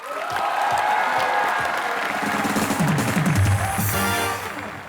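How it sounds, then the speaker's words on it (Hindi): A studio audience at the comedy show Comedy Nights With Kapil applauding to welcome guests Ravi Kishan and Tushar Kapoor, loud dense clapping with some crowd noise and cheering, sustained throughout. "रवि किशन और तुषार कपूर के लिए जोरदार तालियां।"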